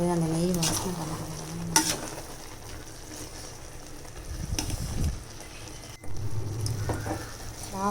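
Kootanchoru rice with cowpeas and ghee stirred in a pot over heat, soft sizzling and scraping stir strokes, with a voice speaking intermittently over the cooking noise.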